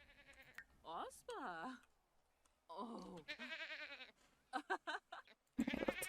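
Several loud wavering goat bleats in a video game, coming in separate bursts with short gaps, close and clear, with a voice talking faintly underneath.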